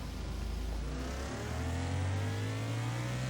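Motorcycle engine from the Traffic Rider racing game revving steadily, with a loud continuous drone whose pitch rises across the few seconds, alone with no talk.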